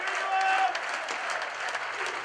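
Farewell applause rises from a guard of honour lined up for departing N.E.C. goalkeeper Dennis Gentenaar. Moderate, continuous crowd clapping runs throughout, with a voice speaking over it early on.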